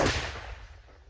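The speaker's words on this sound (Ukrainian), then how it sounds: "Постріл!" A single sharp gunshot cracks loudly at a frontline position near Svitlodarsk, Ukraine, followed by a short fading rumble.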